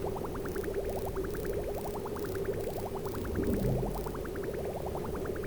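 A sieve flushes liquid in the video game Oni, making a steady bubbling, gurgling loop of repeating rising sweeps at an even level.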